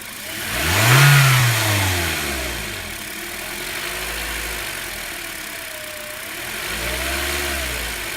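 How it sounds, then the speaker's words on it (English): A car engine revs up sharply during a fuel system tune-up, then falls and rises again in several swelling revs over a steady running rumble, close and loud. "let's go ahead and race the engine up"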